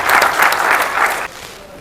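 An audience at a Dogri play in Reasi applauds in a short, loud burst of clapping that cuts off abruptly, leaving faint room noise.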